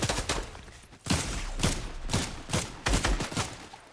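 Rapid bursts of video game gunfire, several loud volleys of shots in quick succession separated by brief lulls, close and dominant with no talking.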